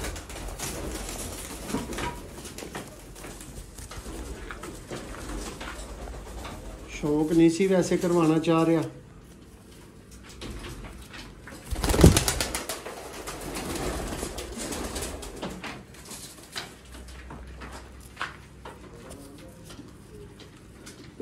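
Sialkoti pigeons in a loft coo low in the background while someone talks over them, with a short burst of wing flapping partway through.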